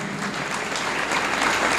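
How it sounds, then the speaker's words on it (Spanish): An audience at a lecture on Masonic values and ideas in American independence claps for Rodolfo González Risotto, a dense, even wash of applause with no voices. "creo que ahora sí se ha hecho merecedor del aplauso Rodolfo González Risotto"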